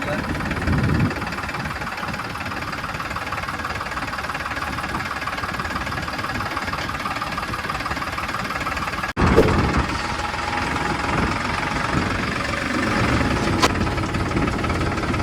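A farm tractor's engine idles loudly up close with a steady, knocking diesel throb, broken by one sharp clunk partway through before the rumble carries on.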